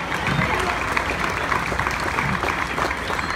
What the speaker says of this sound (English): Give a mighty hand clap to the Lord.